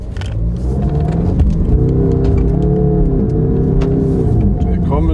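A 2020 Land Rover Defender engine revs hard at full throttle, a loud, rising roar that holds steady while people talk over it.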